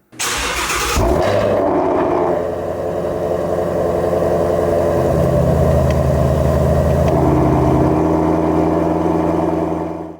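A Shelby GT350 V8 starts up with its exhaust valves closed, a sharp crank then a loud, steady muffled rumble at close range, with a slight change in tone partway through.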